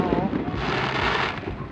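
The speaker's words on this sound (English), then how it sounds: "The night got started with some fireworks that are illegal in Oregon launched on the Washington side of the river" Fireworks launched over the Columbia River between the St. Helens, Oregon waterfront and the Washington shore rumble and crackle in a dense distant burst, sustained over a low background, with a voice briefly reacting.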